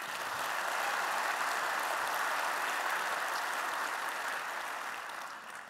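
Large conference audience applauding steadily in a big hall at a tech keynote, a dense even wash of clapping that holds level and eases slightly at the end.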